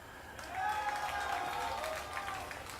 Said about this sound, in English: like 30 people clapping for Polt